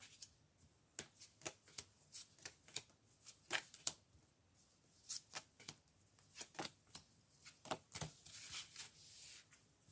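Tarot cards being shuffled and drawn close up, a quiet run of crisp riffling snaps and flicks in irregular bursts, with no talking.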